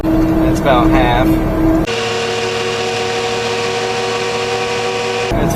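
A supercharged mini-truck engine held at about half throttle with 9 psi of boost, a steady loud drone with tonal whine lines after a brief stretch of rougher sound, close up and sustained.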